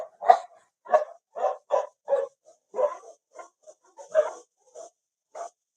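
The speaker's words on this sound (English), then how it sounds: "The dog's coming back." A dog barks repeatedly in a series of short, evenly spaced woofs and yips at close range, with no talking over it.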